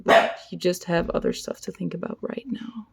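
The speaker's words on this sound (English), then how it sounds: "I'm sorry for the dog barking." A dog barks at the start, a sharp close bark, before someone talks steadily over the rest.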